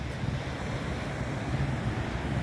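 Steady surf washes and rumbles along a beach in Ras Al Khaimah, UAE, mixed with wind buffeting the microphone, continuous and fairly loud with no voices.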